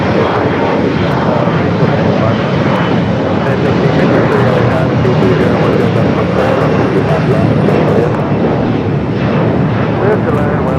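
Delta Airbus A350 jet landing at LAX, a loud sustained engine roar holding steady throughout, with speech heard over the noise.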